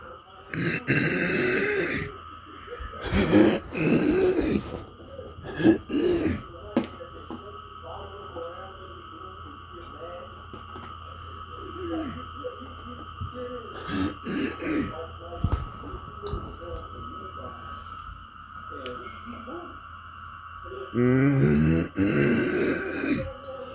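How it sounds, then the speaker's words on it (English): A man clears his throat a few times, rough gravelly bursts scattered between stretches of quiet talking. "gotta keep clearing my throat"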